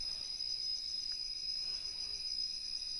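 Crickets and other insects chirp in a steady high shimmering drone outdoors in a forest, faint but unbroken, with no other sounds standing out.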